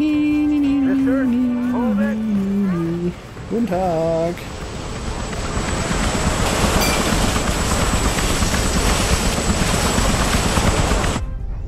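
A helicopter in the Hitman video game spins up, its engine whine rising into a loud, dense rotor roar that continues steadily until it stops suddenly. A voice talks over the opening seconds.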